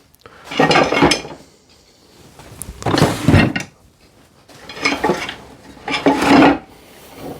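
A metal woodturning ball scraper is set into a tool holder in a woodturning shop, giving four separate bursts of close scraping, clattering metal, spaced about a second apart with quiet gaps between.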